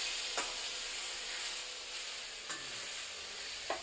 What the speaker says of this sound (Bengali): পেঁপে কুড়োনোটা সম্পূর্ণ দেওয়া হয়ে গেলে এবার খুন্তি দিয়ে ভালোভাবে পেঁপে কুড়োনোটাকে নাড়াচাড়া করতে হবে।